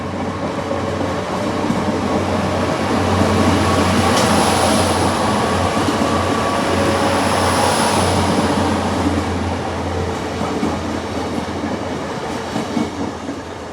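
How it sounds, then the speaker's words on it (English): A Class 800 train heading towards Exeter runs past continuously with a loud steady rumble and rushing noise, wheels clattering on the rails, with no voices. "here is the Class 800 heading towards Exeter"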